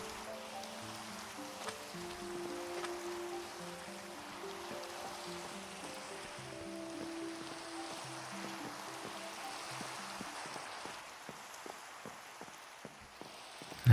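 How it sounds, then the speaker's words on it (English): Rain falling in the Minecraft video game, a steady soft hiss of rainfall under sustained game music notes, continuous and even throughout with no talk. "Looks like it's just started to rain for us as well."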